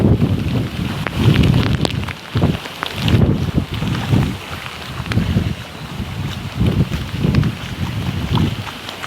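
Heavy monsoon rain falls outdoors on farmland, a dense steady wash broken by loud gusty bursts of wind buffeting the microphone, with no voices.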